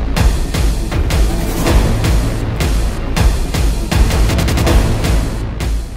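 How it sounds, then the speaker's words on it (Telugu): A load of firecrackers in an auto-rickshaw at the front of a rally explodes in a loud, rapid, overlapping barrage of bangs and booms that continues without pause. "ఆటోలోని బాణసంచ మొత్తం పేలడంతో భారీ శబ్దంతో ఆ ప్రాంతం దద్దరిల్లిపోయింది."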